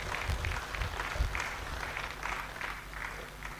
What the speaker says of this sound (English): A round of applause for First Bank.